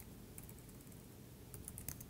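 Keystrokes on a laptop keyboard while writing Python code, a soft steady run of clicks that grows into a quicker, louder burst near the end over a low room hum.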